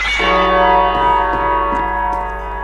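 A bell rings as a house door opens in a video game, one clear sustained chime that decays slowly over a low steady hum.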